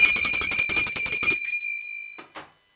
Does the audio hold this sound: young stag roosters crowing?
no